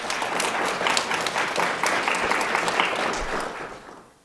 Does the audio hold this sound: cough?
no